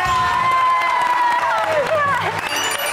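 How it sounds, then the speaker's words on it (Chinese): Studio audience at a game show cheering and applauding, loud and dense crowd noise with a voice shouting over it and rising, sliding vocal tones. "掌，鼓掌，鼓掌！"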